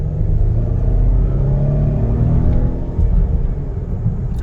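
A 2021 Volvo V90 Cross Country in dynamic mode holds its gears as it accelerates, giving a steady loud low engine drone and road rumble from inside the cabin, continuous with no voices.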